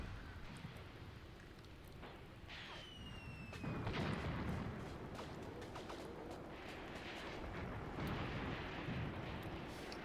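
Long-range artillery fire in Graviteam Tactics, a Second Battle of Kharkov scenario: distant, muffled booms and a rolling rumble, with one heavier blast partway through, all fairly faint.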